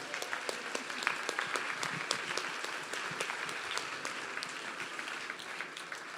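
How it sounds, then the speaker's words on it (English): Guests at the Retreat Imagine Gala 2022 applaud the gala committee: moderate, slightly distant clapping from a crowd, with distinct individual claps standing out over a steady patter. "So a big round of applause for our Imagine committee"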